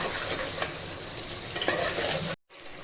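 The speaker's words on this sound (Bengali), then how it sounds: "এবারে ভালো করে কষবো, খুব ভালো করে কষতে হবে।" Mutton korma masala of ginger, garlic and green chilli sautéing and stirred in a pan, a steady close sizzle with scraping strokes that stops abruptly near the end.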